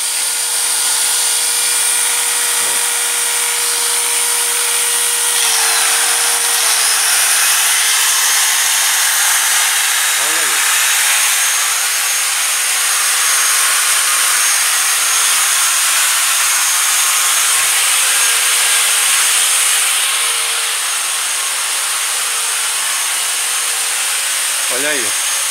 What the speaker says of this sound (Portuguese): Bomba d'água.